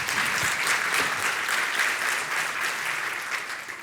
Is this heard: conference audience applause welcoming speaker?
yes